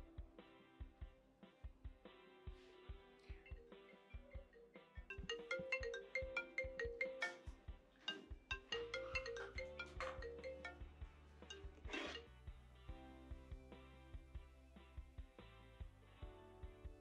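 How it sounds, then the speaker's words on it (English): A mobile phone ringtone plays for a long stretch, a melodic electronic tune with rhythmic beats that grows louder midway, heard alone without talk. "Your phone has been constantly ringing."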